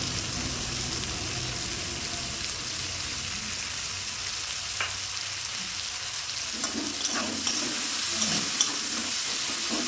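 Onions fry in a pan with a steady, close sizzle throughout, while a spatula stirs them and scrapes and clatters more busily toward the end.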